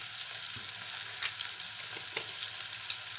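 Sliced onions fry in a pan for a brown onion sauce, a continuous close sizzle with a few soft stirring knocks and scrapes scattered through it.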